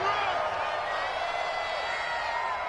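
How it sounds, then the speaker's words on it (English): A steady, broad roar of stadium crowd noise in a domed arena fills an EA Sports NFL football video game near the goal line, even and continuous with no distinct cheers or claps standing out. "The crowd here in the Dome making things difficult"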